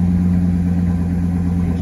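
A 2001 Ford Excursion's loud exhaust rumbles steadily at idle, a deep even drone close by with no talking.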